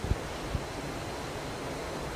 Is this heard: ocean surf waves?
yes